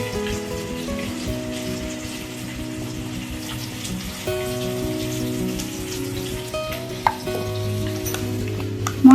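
Spices fry in a hot pan with a continuous crackling sizzle, close by and moderately loud, with a faint background hum and a sharp clack near the end; nobody speaks.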